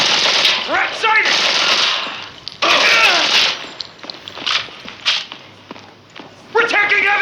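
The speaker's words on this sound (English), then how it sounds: "We're taking heavy fire!" Loud bursts of automatic gunfire and shots in the military shooter game MC4: Zero Hour, rattling in several heavy volleys between quieter gaps, with shouted voices in the mix.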